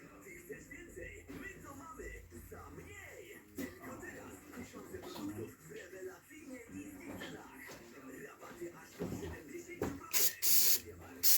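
After quiet rustling and muffled speech, an aerosol can of brake cleaner gives a couple of short, sharp hissing sprays close up, cleaning parts on a 2002 Harley-Davidson Road King.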